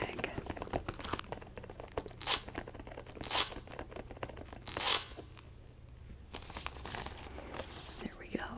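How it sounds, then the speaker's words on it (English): A fabric tag is ripped off a scarf in a quiet room, close crinkly tearing and rustling with several sharper rips standing out, under soft whispered speech. "Let's see if we can rip off this tag."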